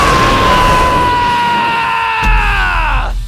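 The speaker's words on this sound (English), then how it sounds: "like this roar going on, the Uzaru scream." The Oozaru from Dragon Ball Xenoverse 2 gives a loud, sustained roaring scream that holds a steady pitch and then slowly sinks before cutting off, heard alone with no talk.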